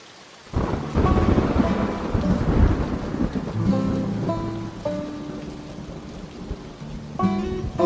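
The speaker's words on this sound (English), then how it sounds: "It rained today." Rain falls steadily on outdoor surfaces while deep thunder rumbles and rolls through, loud and continuous, with several drawn-out peals and no voices.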